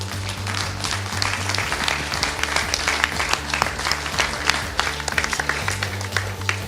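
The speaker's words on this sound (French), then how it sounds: "c'est nous, l'ensemble des élus, qui allons vous applaudir très fort aujourd'hui" Loud applause from a crowd of elected officials and guests at an outdoor constituency fête in Puyricard, a steady wash of many hands clapping throughout, with a low hum of music or equipment underneath.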